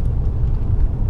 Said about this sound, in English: I got the truck going straight.